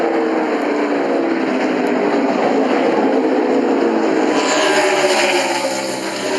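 NASCAR race cars braking into the carousel on a road course, a dense, continuous engine roar filling the whole stretch at a loud, even level.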